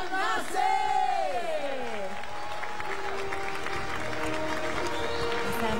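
Crowd at a Malaysian music industry awards ceremony applauds and cheers for two honourees, a sustained roar of clapping and whoops, with an amplified voice and music tones over it.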